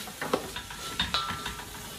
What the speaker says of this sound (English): Let's give this a stir so I'm not burning anything up here.